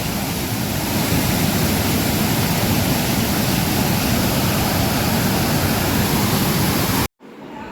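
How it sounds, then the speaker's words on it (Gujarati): A river swollen after heavy rain rushes in a loud, dense, continuous roar of flowing water that cuts off abruptly near the end, with no voices over it. "આ મિત્ર નદીનો આપણે લાઈવ અવાજ છે હો ભાઈ,"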